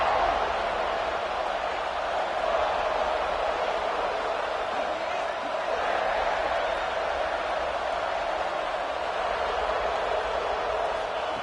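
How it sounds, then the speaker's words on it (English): Stadium crowd roaring in a college football video game as the defense tries for a goal-line stop, a steady, dense wash of noise held at a constant loud level for the whole stretch. "The crowd really making some noise now, trying to help out this defense to get this stop near the goal line."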